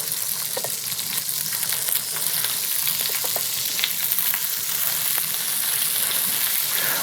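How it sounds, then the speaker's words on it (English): Pancetta frying in a pan with a little oil gives a steady, loud sizzle with scattered pops and crackles that runs continuously throughout, close up and without any talking. "We don't need a lot because the pancetta will give us some oil as well. And then on they go."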